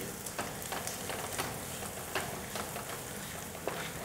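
Curry leaves and shredded cabbage stirred in a hot pan for a cabbage fry, giving a steady close sizzle with occasional scraping stir sounds throughout.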